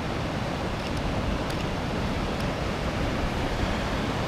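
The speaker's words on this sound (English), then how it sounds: "When you're shooting waves like this, you only have big waves roll through every once in a while." Big ocean waves roll in toward shore, a steady, broad wash of surf and rushing water with wind noise on the microphone and no speech.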